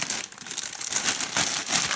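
Thin plastic bags holding Micro Machines toy cars crinkle and rustle up close, in quick, irregular crackling bursts.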